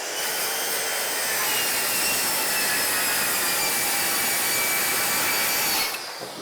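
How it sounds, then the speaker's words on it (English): A saw rips plywood into 1.5-inch strapping strips: one loud, continuous cut lasting about six seconds, close and steady, then the blade winds down. "Just line up your saw, put the top of the saw guide on where the top of the plywood is"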